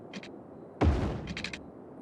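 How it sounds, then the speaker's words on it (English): A single sharp gunshot-like bang from the city-building game Cities: Skylines, with a brief decaying tail, set among faint background noise and a few soft high chirps before and after. "Gunshots."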